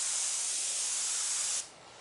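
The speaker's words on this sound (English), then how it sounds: "I just got through spraying the cobalt blue candy from House Color." An airbrush sprays House Color cobalt blue candy paint onto a motorcycle's front fender: a steady, close, loud hiss for about a second and a half that then cuts off.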